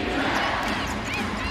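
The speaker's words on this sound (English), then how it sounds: "Crowd on its feet." Basketball arena crowd on its feet cheering during a WNBA game between the Lynx and the Mercury in Phoenix, a loud continuous roar of many voices filling the whole moment without pause.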